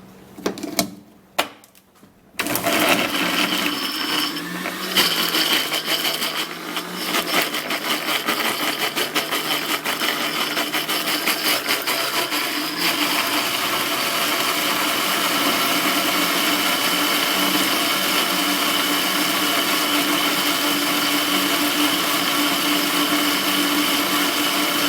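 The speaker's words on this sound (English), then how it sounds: "So we're gonna be putting it into this blender and blend." A kitchen blender whirs loud and steady as it blends banana and egg, starting after a few brief clicks and handling noises and then running continuously at close range without any talking.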